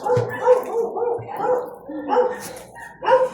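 A dog barks repeatedly in short, loud bursts close by, with a few yips between.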